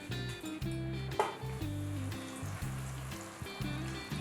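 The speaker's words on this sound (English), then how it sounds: "Keep in mind, the flame is medium to high while frying the chana." Coated chickpeas frying in hot oil over a medium-high flame give a soft, steady sizzle, broken by a repeating low mechanical hum that cuts in and out and one brief clink.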